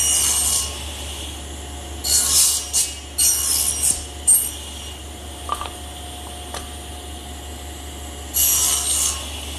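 Hand saw cutting shoulder cuts along the edges of wooden rails for a blanket chest, in several short bursts of rasping strokes with pauses between, close and fairly loud.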